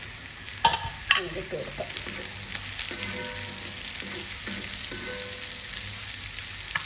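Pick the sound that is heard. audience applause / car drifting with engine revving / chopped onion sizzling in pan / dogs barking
chopped onion sizzling in pan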